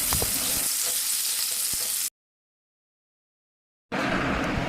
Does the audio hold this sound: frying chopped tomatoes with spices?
yes